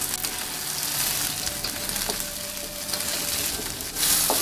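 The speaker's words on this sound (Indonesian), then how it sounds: "Kita tumis-tumis." Green chilies and bird's eye chilies stir-fry in a hot pan, sizzling steadily with scattered clinks of a utensil and a louder burst of frying near the end.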